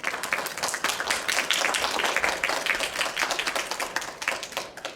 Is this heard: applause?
yes